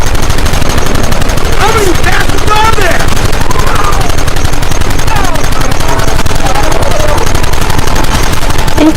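Rapid machine-gun and rifle fire rattles nonstop during a Red Dead Redemption shootout, loud and dense, with shouted voices mixed in.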